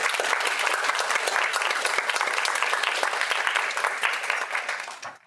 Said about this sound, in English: before we leave, get another round of applause?